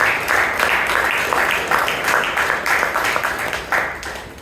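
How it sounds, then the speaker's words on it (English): An audience at a Bangalore Toastmasters club meeting applauds the speech evaluator, steady dense clapping from many hands lasting the whole stretch at moderate loudness. "Everyone give a huge round of applause for Shivangi."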